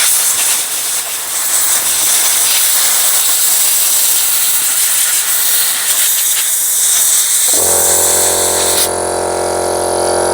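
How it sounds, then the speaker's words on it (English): An air compressor blows air during work on an old alarm removal, a loud continuous hiss that shifts partway through into a steady motor hum with a strong tonal drone, heard alone without speech. "Right, air compressor."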